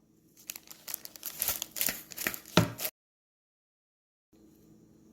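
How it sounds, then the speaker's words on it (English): Tofu pieces shaken in a closed plastic bag with potato starch and breadcrumbs, a close, crinkly rustling and rattling for a few seconds that stops abruptly, then faint room sound. "Then you want to close the bag and mix well."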